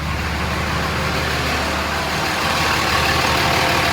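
A 2006 Dodge RAM 3500 with a Cummins diesel idles right after its first startup, a steady close rumble that holds even throughout with no talk over it.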